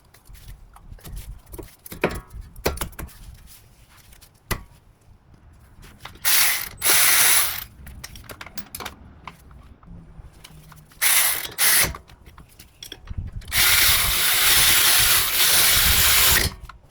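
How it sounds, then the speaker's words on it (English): Ratchet wrench tightening wheel hub nuts and bolts on a car during a front wheel bearing replacement: clicking pawl strokes interspersed with louder sustained bursts of rapid ratcheting, close and mechanical, no speech. "finally we tied all the nuts and bolts"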